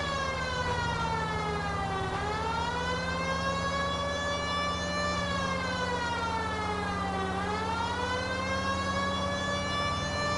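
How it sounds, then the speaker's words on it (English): A police siren in L.A. Noire wails steadily, its pitch sweeping slowly up and down in long cycles over a low engine drone, loud and continuous throughout. "Well, they heard the sirens."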